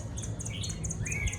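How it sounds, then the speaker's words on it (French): Small birds chirp and trill in brief repeated bursts close by at a calm waterside spot on Mauritius, away from the city, over a steady low background rumble. "On a les petits oiseaux qui chantent juste à côté donc c'est vrai que c'est plus paisible"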